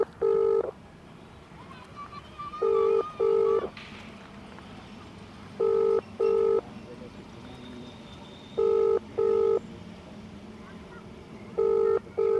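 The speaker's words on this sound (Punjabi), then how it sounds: "ਗਲਾਡਾ ਦੇ ਅਧਿਕਾਰੀ ਰਜੇਸ਼ ਜੀ ਨੂੰ ਅਸੀਂ ਫੋਨ ਤੇ ਗੱਲਬਾਤ ਪੁੱਛਾਂਗੇ" An outgoing phone call rings back with a repeated double-ring tone, five evenly spaced pairs of beeps over a faint hiss.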